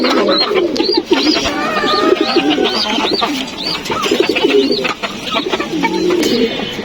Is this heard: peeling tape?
no